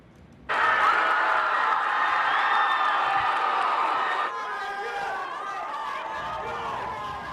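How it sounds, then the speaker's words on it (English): Crowd at the Oklahoma State Capitol bursting into loud cheering, whooping and shouting, then easing into excited chatter. "Listen to the reaction at the Oklahoma State Capitol when word came in that the governor was stepping in."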